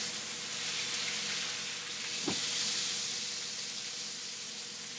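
A ribeye steak sears in a hot pan with a constant loud sizzle and hiss, and one soft knock partway through, with no voices.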